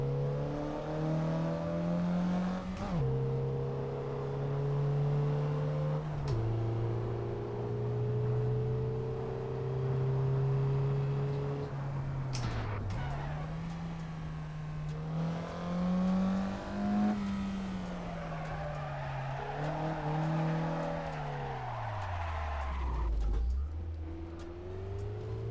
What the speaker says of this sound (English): Now we start driving, and we can use the clutch and shifter to change gears.